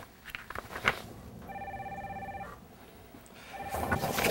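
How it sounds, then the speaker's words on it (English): An office telephone rings in one sustained electronic burst lasting about a second, nearby, preceded and followed by faint indoor movement and clatter. "From now on, from this day forth, Dustin answers all phone calls."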